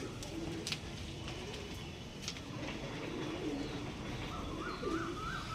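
A pigeon of a show-quality breed coos softly now and then, faint and fairly close, over a steady noisy background with scattered light clicks.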